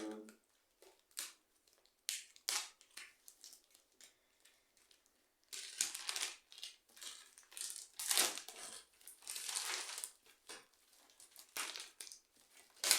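Wrapping around a newly bought book package is torn open and crinkled, with irregular bursts of close crackling plastic and paper, sparse at first and then denser, with no talking.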